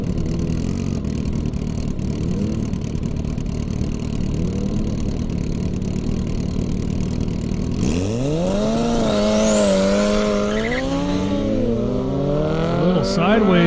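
Kawasaki ZX-10R motorcycle and other drag racing machines on a half-mile airstrip course, engines idling and burbling before a sharp rev, then rising, sweeping engine tones as a run launches, with a commentator talking over it.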